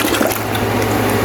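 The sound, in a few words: rinsing a texture brush in a bucket of warm water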